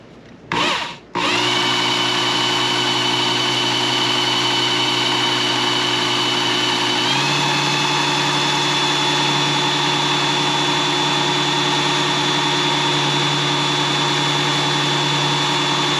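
A Work Sharp Knife & Tool Sharpener, Ken Onion Elite Edition, running with a super fine 12,000 grit belt gives a steady, loud motorized whine that starts abruptly after a brief knock and shifts pitch slightly partway through.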